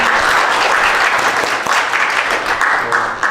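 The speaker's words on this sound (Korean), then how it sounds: "감사 박수합니다" An audience at a church gathering gives a burst of applause. Steady, dense clapping from many hands sounds close and loud, then begins to thin toward the end.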